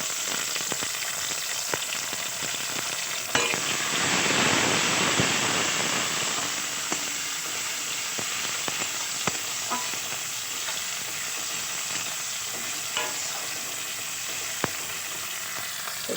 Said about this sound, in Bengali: তো চলো টমেটোটা হালকা ভেজে নিই।